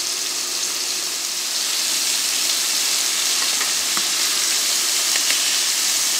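Strips of beef for a beef stroganoff sear in a hot frying pan, giving a steady, bright sizzle with occasional small pops, heard alone and fairly close.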